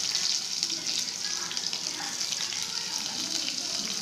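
Mustard seeds and coconut frying in a hot pan for a South Indian tempering, a continuous hissing sizzle with light popping crackles, fairly close and steady, with no speech.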